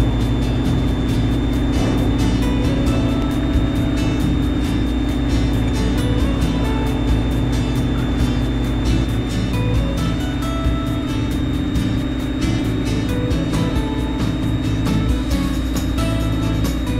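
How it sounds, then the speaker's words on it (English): Vans RV-10 experimental aircraft with an auto engine conversion and gearbox, taxiing onto runway 16; a loud, steady engine drone with a constant tonal whine holds throughout, close and unbroken. "Vans RV-10 730 Whiskey Lima is taking the runway 16 for departure"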